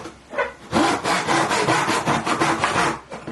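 A Western-style carcass saw cuts while pushed against a hardwood block on a bench hook, giving a steady run of close, rasping back-and-forth strokes with no talking.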